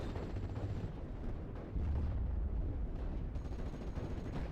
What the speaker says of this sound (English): Oh wow, we're being mortared to shit.